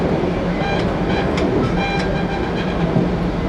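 An Amtrak passenger train runs along the rails toward Niagara Falls with a loud, steady rumble and wheel noise, faint rhythmic clacks and a few high metallic squeals throughout.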